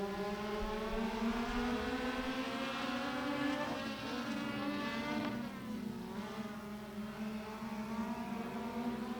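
Race cars roar around the oval at Beckley Motor Speedway in the closing laps of a heat race, a steady, loud drone of engines running close together, with no break in the noise.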